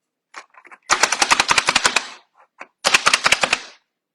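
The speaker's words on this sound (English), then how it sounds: "I use the chopper like all the time" An electric food chopper runs in two bursts of rapid, loud pulsing whirs with a short pause between them, close up, during a live cooking session, with no talk over it.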